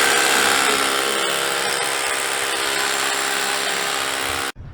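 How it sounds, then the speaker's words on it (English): A power drill runs continuously, steady and loud, boring a hole in the shop floor to anchor a two-post car lift, then stops abruptly at the end. "we gotta drill the other side"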